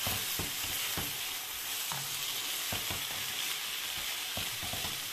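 Onion frying in a pan with garlic, leek and carrot, a dense close sizzle throughout with intermittent knocks and scrapes from stirring, and no voices.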